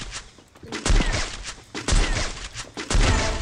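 Bursts of gunfire from a Free Fire battle royale match, several sharp shots with loud peaks spaced about a second apart over a steady background din.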